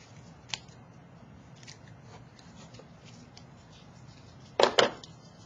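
Scissors snip through the body of a dissected dogfish shark, with one small cut early and then two quick close snips near the end over quiet room tone.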